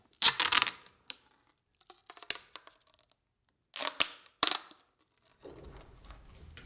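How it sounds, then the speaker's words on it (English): Tubeless rim tape pulled and stretched in short sections into the drop channel of a bicycle rim, giving several bursts of tearing, crackling sticky noise separated by quiet gaps, close and fairly faint. "pull horizontally in small sections, trying to stretch the tape as much as possible to lay it down nice and evenly in the drop channel"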